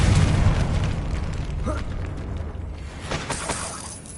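Booming blast of the Confringo fire spell in Hogwarts Legacy, a loud burst at the start fading into rumbling debris, with a second softer burst near the end.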